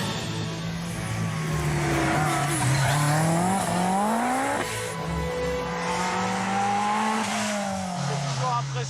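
An Audi S4 Group B rally car engine revving loudly up close, its pitch climbing and dropping in repeated surges, with a harsh, raw mechanical roar throughout.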